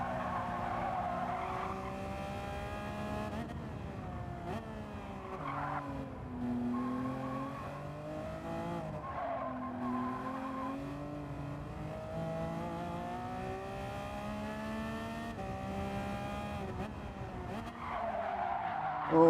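A race car in Gran Turismo 7 slides through a corner, tyres skidding and squealing in long wavering tones over the engine's drone, sustained and fairly close throughout.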